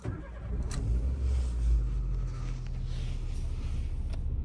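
A 2004 Nissan Micra K12 with a 1.2 engine starts up, a brief cranking whir settling into a steady low idle that rises slightly and then holds, heard close with faint clicks.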